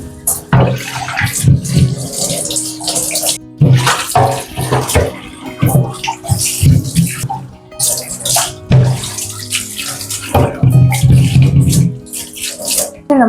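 Water running hard from a tap while a clay pot is scrubbed clean with rice flour, a loud continuous splashing gush with brief pauses and clatter of the pot.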